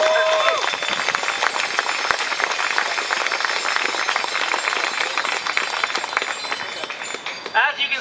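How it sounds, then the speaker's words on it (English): An outdoor crowd at a bike-lane rally in Toronto applauds the event organizer, with sustained, even clapping that fills the whole stretch and fades slightly at the end. "Round of applause for her for organizing this"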